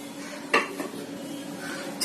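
A dirty kitchen pot is set down with a single clattering metal clunk, followed by faint softer knocks in a quiet room and another bump at the end.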